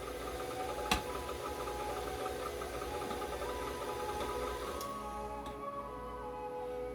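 A meat grinder churns pork through a large die with a low, steady mechanical hum and faint rattling, quiet overall with a single sharp click near the start.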